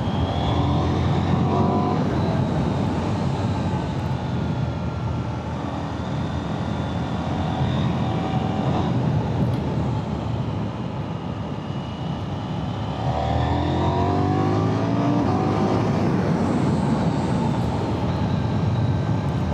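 A KTM 990 Duke motorcycle engine revs and pulls hard while being ridden, its pitch rising through several gear changes over steady wind rush, with no talk over it.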